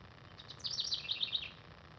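A mother finch calls near its nest in a garden of coneflowers, a quick run of high, thin chirps lasting about a second, moderately near, over faint background hum with no talk.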